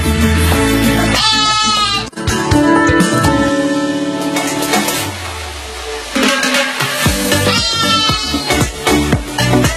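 Batur sheep, a meat breed, bleat in a series of loud, wavering calls, clustered near the start and again toward the end, over a busy background.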